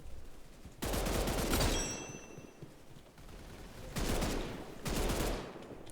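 Strange weapons in a video game fire three separate bursts of rapid gunfire, loud and close with short pauses between, and a brief whistling tone in the first burst.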